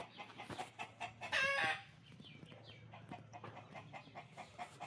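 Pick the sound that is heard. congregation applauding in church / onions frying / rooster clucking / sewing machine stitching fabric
rooster clucking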